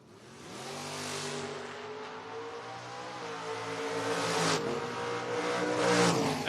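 Drag racing cars, a 1973 Nova and a 1992 Mustang, roar off the line at a footbrake event, the engine note climbing through gears and growing louder as they accelerate.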